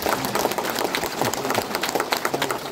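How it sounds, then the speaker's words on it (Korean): Dense, warm applause from a crowd gathered at a town office welcoming rally for a committee chairman, continuous and close throughout with no talking over it. "추진위원장님께 뜨거운 박수"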